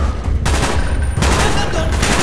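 Loud, dense gunfire erupts in a Call of Duty: Black Ops campaign battle, with rapid automatic bursts piling into a continuous fusillade, close and forceful throughout.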